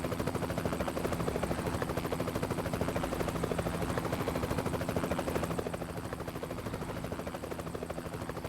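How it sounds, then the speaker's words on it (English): A helicopter in the American Truck Simulator video game follows a truck, its rotor chopping in a fast, even rhythm that stays close and fairly loud throughout, easing slightly near the end. "Seriously, this helicopter is following me."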